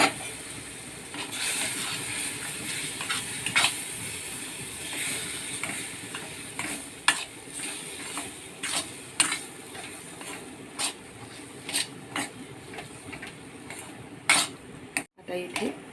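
Hot water is poured bit by bit onto roasted coarse lentil grains (bharda) in a pan and stirred, giving close metal scrapes and clinks of a spoon against the pan over a soft background hiss.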